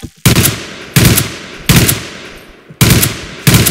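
Machine gun fire from the M9K weapons pack in Garry's Mod, loud close bursts in five sustained volleys separated by brief pauses.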